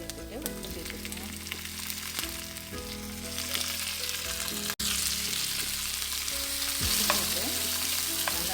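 Tomatoes and curry leaves sauté in a pan for egg curry, giving a steady close sizzle and frying hiss with occasional stirring scrapes throughout, no talking.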